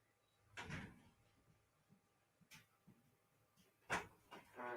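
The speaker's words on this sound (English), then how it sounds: "Let me go open the door for them." A household door is opened with a couple of thuds and latch clicks, moderately near in a quiet room, with small handling noises between them.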